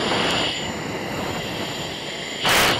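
A Rafale fighter jet's engine in flight, a steady loud roar filling the cockpit that surges brighter and harsher near the end as the throttle opens, with no talk.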